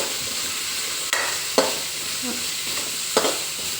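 Radish chutney ingredients fry in a pan until browning, giving a constant close sizzle punctuated by three sharp clinks of a spoon against the pan, with nobody speaking.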